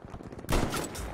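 A sudden burst of gunfire in Battlefield V on the Aerodrome map in Breakthrough mode, breaking sharply out of quieter battle ambience and continuing loud for a fraction of a second.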